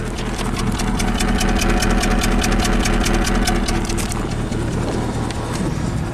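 A 2008 Subaru Legacy 2.5 SOHC engine idles with a misfire and an engine tick after an engine swap, giving a loud, uneven, lumpy chug with rhythmic ticking pulses heard up close and steady throughout.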